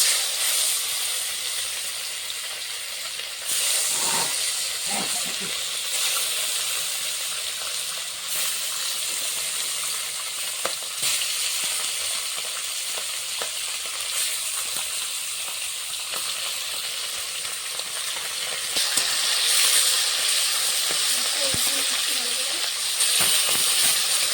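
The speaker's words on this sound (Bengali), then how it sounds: "মাছটা ভাজা হচ্ছে" Salted, turmeric-coated fish frying in a pan, a steady close sizzle with crackling hiss and a few sharp clatters of utensils, continuing throughout without any talk.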